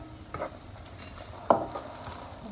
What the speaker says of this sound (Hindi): अदरक को थोड़ा सा फ्राई कर लेंगे